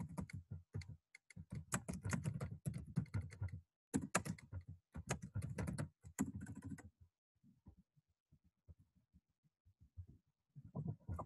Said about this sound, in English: all I'm going to do is type a little post